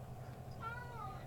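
A house cat lets out a single drawn-out meow, faint and close, over a low steady background hum, with no talking.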